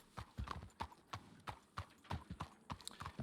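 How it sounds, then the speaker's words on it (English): Horse hooves clip-clop at a steady walking rhythm in a video game, fairly close and clear, with a brief neigh-like touch and no talk over it. "Oh, there's a horse up there."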